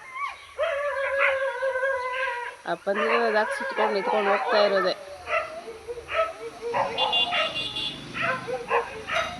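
Dogs bark, yelp and whimper as dog catchers round them up in a village street in the morning, the cries close and agitated, overlapping with people talking nearby throughout.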